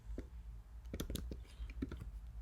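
A command is typed on a computer keyboard: a short burst of quiet, uneven key clicks, close by and alone.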